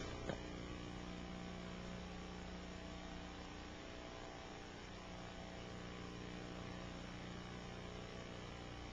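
FBI and Army evacuation helicopters in flight give a steady, unbroken drone of engine and rotor noise, fairly faint and constant throughout, with no voices.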